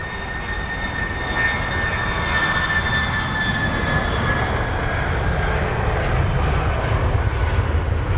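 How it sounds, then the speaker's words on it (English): A Eurowings Airbus A319 taxis for departure at London Heathrow, its engines giving a steady, fairly near roar with high whining tones that slowly fall in pitch. No one speaks. "So both jets taxiing towards us. Got a Eurowings A319 for departure"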